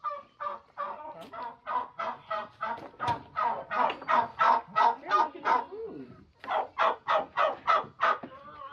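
Close to a coop, a big turkey makes a long series of rapid, rhythmic gobbling calls with one short pause partway through, loud and alone.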